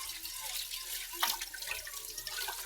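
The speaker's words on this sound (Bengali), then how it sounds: "এখানে তেলের বড়াগুলো মেজে নেব।" Oily cooking pots are scrubbed and washed with water: a soft, continuous splashing and trickling with small clinks, fairly faint throughout.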